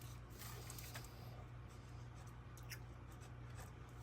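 A pen scratches across a lab data sheet at a chemistry bench during a copper and silver nitrate experiment. The strokes are faint and close, set against a steady low hum of room noise.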